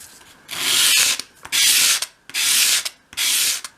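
Sandpaper rasps against a small wooden piece as a bevel is sanded on a 1/12th scale storage unit part, four loud, steady back-and-forth strokes, each about half a second long, close up, with no talk.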